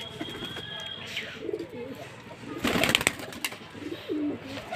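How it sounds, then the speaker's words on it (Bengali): Pigeons coo from a loft as they come outside, low soft coos repeating nearby, with a burst of wing flapping midway and faint background chirps. "পায়রা এদিকে বাইরে আসছে"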